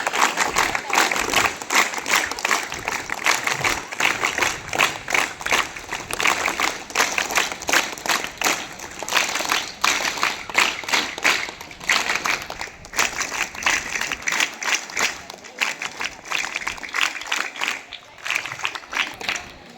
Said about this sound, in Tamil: நீங்க இதே மாதிரி என்சிசி முறையில கைத்தட்டணும்